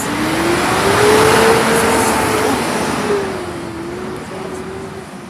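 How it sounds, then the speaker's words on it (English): A recycling bin lorry's engine drones loud and close on a Bournemouth street, a steady low hum that swells and then eases slightly with no clear speech over it. "You can hear that truck for miles away."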